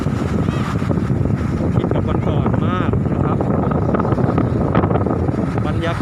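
Strong onshore wind buffets the microphone on Lamae beach during the northeast monsoon, with rough surf churning behind it. The roar is loud and continuous and never lets up.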